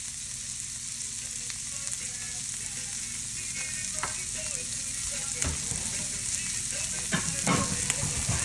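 A chicken breast sears in a hot pan with a bright, steady sizzle, and occasional utensil scrapes and spatters grow busier toward the end.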